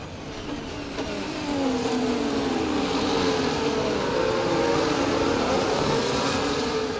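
An F1 car in EA Sports F1 accelerates out of a corner at the Circuit of the Americas during the USGP sprint race, its engine whine climbing steadily in pitch and holding loud and close.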